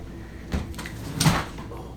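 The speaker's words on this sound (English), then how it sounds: "the door just opened" A door opens inside an old, reputedly haunted farmhouse during a paranormal investigation, with two brief creaking, scraping movements about a second apart, fairly close and otherwise quiet.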